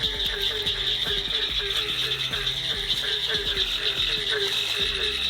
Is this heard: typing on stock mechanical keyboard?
no